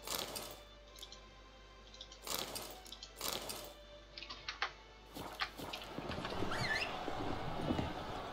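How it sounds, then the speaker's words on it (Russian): Horse hooves clop in uneven bursts in The Witcher 3: Blood and Wine, with soft clicks and a brief whinny-like cry near the end, fairly quiet throughout. "Теперь у нас серьезная лошадь."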